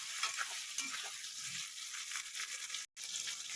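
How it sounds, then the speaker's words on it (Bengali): Chopped tomato fries with capsicum and onion in a pan for rohu chilli fish, making a continuous close sizzle with a few stirring knocks and a brief drop to silence near the end. "টমেটো ভাজা হয়ে গেছে,"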